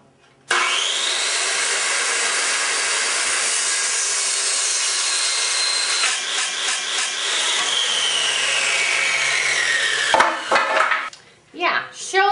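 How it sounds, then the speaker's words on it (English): A power circular saw cuts through wood pieces for a folding bar stool, running as one loud, continuous whining cut for about ten seconds, then spinning down among short knocks and brief noises. "Just going to use a power circular saw and chop them off."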